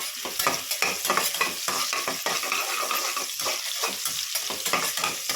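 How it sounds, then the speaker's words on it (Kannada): Onion frying in a pan for fried rice: a continuous close hiss with rapid, regular scraping strokes of a spatula against the pan, fairly loud throughout. "ಅರ್ಧ ಈರುಳ್ಳಿ ಎತ್ಕೊಂಡಿದ್ದೀನಿ. ಈರುಳ್ಳಿ ಫ್ರೈ ಮಾಡ್ಕೊಳ್ಳೋಣ."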